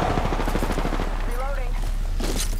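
Rapid video-game gunfire rattles in a dense, steady stream, with game voice lines and effects layered over the shooting throughout.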